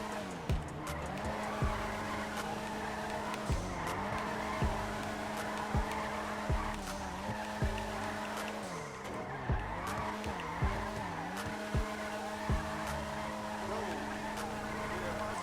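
A Vulcan Warrener HKR drifting on low-grip tires in GTA Online: a continuous engine drone that swells and dips with throttle, repeated tire squeals and regular sharp knocks, with a voice talking over it.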